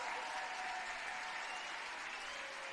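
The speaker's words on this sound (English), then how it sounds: "a standing ovation from the crowd here for Bailey-Gale, Barker and Lumsden" A stadium crowd at a Newcastle United Women v Liverpool Feds Women football match gives a standing ovation, a continuous, even roar of clapping heard from amid the stands.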